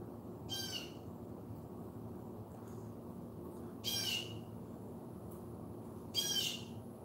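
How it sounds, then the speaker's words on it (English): A blue jay calls out at night in a garden, three harsh squawking calls spaced a couple of seconds apart over a faint background hum, moderately distant and with no talking. "Oh, you're a blue jay."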